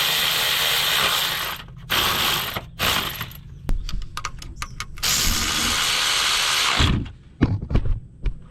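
Ratchet wrench tightening bolts on a Honda Accord engine during timing belt and water pump work, several bursts of rapid clicking separated by short pauses, close and loud with no talk.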